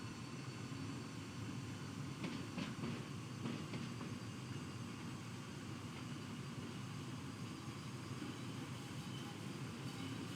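An electric locomotive running light without carriages on a mountain railway in a train-driving simulator, a steady droning rumble with a constant mechanical hum that holds evenly throughout at a fairly loud, close level.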